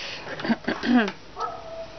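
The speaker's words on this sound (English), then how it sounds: "Let the huskies sing." Huskies howl and yip indoors, a close, fairly loud run of rising and wavering vocal tones with whimpering breaks, the howls sliding upward and trailing off near the end.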